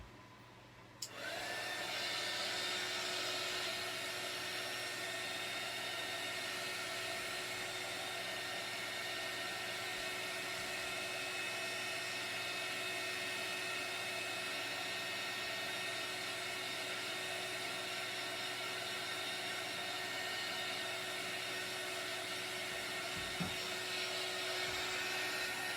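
A heat tool drying chalk paste on a craft sign blows a steady, loud whooshing hiss that starts abruptly and holds unbroken for over twenty seconds, with no talking.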